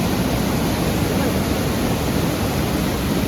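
Water pours down Kalu waterfall, whose flow is low, making a loud, steady, broadband rushing roar with no breaks, heard close and alone.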